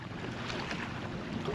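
Strong wind buffets the microphone in a steady, loud roar while kayaking at Truman State Park, with water lapping faintly underneath and no voices.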